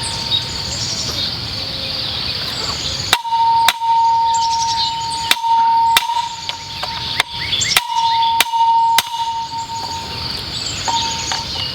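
A trellis post is pounded into garden ground with a hammer, about ten loud, sharp, close strikes at an uneven pace, several leaving a ringing metallic tone, while birds chirp in the background.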